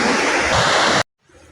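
Water rushes steadily in a branch stream of the Cianjur river fed from an irrigation water gate, a loud, close, broadband flow that cuts off abruptly after about a second.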